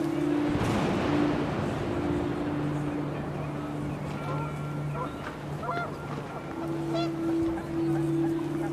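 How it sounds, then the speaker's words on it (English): Geese honking in Remains of Edith Finch amid rising wind, a flock of several nasal calls repeating throughout over a constant windy wash, fairly close and fairly loud. "The wind picked up, and panicked geese appeared and quickly went."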